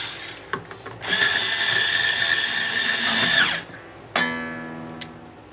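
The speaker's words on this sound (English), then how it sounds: "With the help of my Ernie Ball string winder." An Ernie Ball string winder cranks a guitar string onto a Fender Stratocaster tuning post, giving a steady whirring buzz of about two and a half seconds that stops sharply, followed by a shorter ringing burst.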